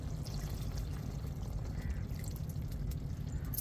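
Water pours steadily into a pot of chicken, a soft continuous splashing and trickling close up, with no talking.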